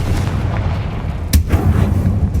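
A Confringo fire spell explodes in the video game Hogwarts Legacy, a sharp loud blast landing about midway through over a rumbling low background, with a softer follow-up burst just after.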